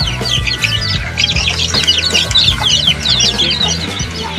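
Laying hens clucking and chirping close by in a coop, a dense busy chorus of overlapping calls with steady background hum.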